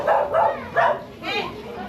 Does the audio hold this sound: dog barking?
yes